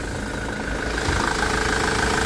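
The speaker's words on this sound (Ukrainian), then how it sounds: "Заведений двигун." A 2005 LDV Convoy van's 2.4 TDI diesel engine idles steadily with a low rumbling chug and faint knocking, close by and continuous, with no voices.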